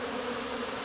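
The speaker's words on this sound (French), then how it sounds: "les abeilles arrêtent pas de faire les allers-retours là" Honeybees in flight at the entrance of a busy hive during heavy activity after a cold spell, a dense steady buzzing hum that is close and continuous, with no voices.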